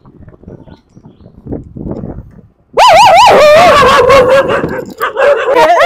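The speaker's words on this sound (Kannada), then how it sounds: "ನಾಯಿಗಳು ನೋಡಿ." Dogs barking loudly and whimpering close by, a sudden burst of yelps, whines and howl-like cries following quieter rustling and faint talk.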